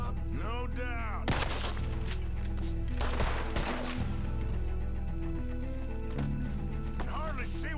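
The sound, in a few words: gunfire in Red Dead Redemption 2 video game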